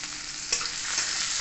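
Chopped onion sizzles in hot oil with cumin, a steady bright hiss broken by a small clatter of stirring partway through, close and continuous.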